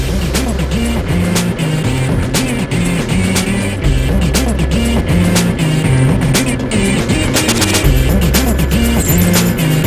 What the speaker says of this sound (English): drifting his Yamaha through the soft topsoil all through the stage